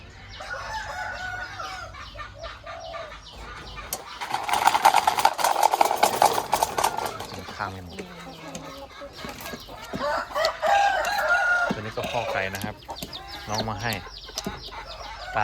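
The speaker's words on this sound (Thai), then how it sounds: "พ่อไก่นะครับ" Rooster crowing loudly at close range, a long strong crow in the middle, amid ongoing clucking from farm chickens, with a second crow later and busy background activity.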